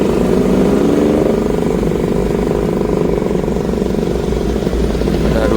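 Two Vespa scooters, a PTS and a Sprint, pass on a road trip toward Bali, their small engines making a loud, steady buzzing drone that holds without a break and has no talk over it.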